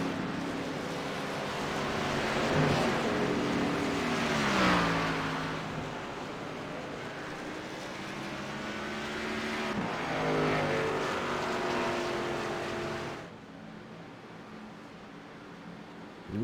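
Gen 6 NASCAR stock cars race in a pack at Daytona International Speedway under yellow. Loud engine drones swell and fade as cars sweep past, their pitch rising and falling, before the roar drops away sharply near the end.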